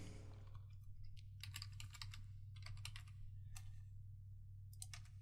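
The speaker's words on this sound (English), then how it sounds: "we just type in the function name" Keys tapped on a computer keyboard in short bursts of quick clicks with pauses between, fairly close over a low steady hum.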